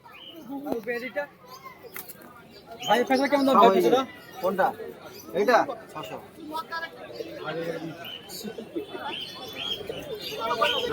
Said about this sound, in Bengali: খুবই সুন্দর পায়রা দুটো